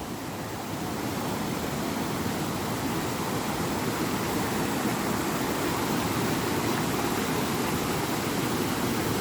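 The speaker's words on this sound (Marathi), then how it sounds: "किती दिवसांनी वाहणाऱ्या पाण्याचा आवाज ऐकला मी." Water flowing along a stream on the Mole Gap Trail in the Surrey Hills, a steady, dense rushing wash that holds constant and close throughout with no voices.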